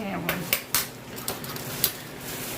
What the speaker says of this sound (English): and some new silverware